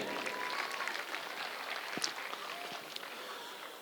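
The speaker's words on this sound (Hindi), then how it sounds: "एक बार दिल से जोरदार उनके लिए भी तालियां बजनी चाहिए।" Audience applause at a school annual function in Gujarat: steady, dense clapping from a large crowd, moderately loud and continuous throughout with no voices over it.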